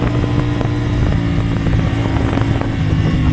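A CFmoto CLC450 cruiser motorcycle revs hard while being ridden, giving a loud, continuous buzzing engine drone close to the rider, mixed with wind rush and no talking.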